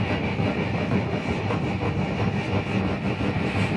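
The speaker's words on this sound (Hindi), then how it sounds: "हमारी ट्रेन बड़ी तेजी से चलते चलते अपने डेस्टिनेशन में पहुंचने आ रही थी।" Inside a general coach of the Bhavnagar Express, 12971, as the train runs fast: a loud, steady rumble of wheels and carriage with faint rhythmic clatter throughout, no talk.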